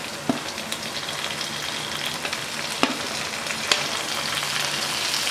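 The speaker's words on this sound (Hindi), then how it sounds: "अच्छे तरीके से फ्राई करेंगे" Green chillies frying in hot oil for a cabbage and potato dish, a steady close sizzle throughout with a few sharp crackles and pops.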